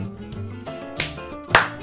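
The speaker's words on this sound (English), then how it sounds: "That was a terrible clap" Two sharp hand claps ring out over a soft musical backdrop, the second louder and crisper than the first.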